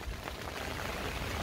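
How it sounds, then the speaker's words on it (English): Heavy, steady rain and gale-force wind batter an outdoor tench-fishing spot in a continuous broadband roar, loud and unbroken throughout with no voices. "Blowing a gale and heavy rain non-stop since we got here."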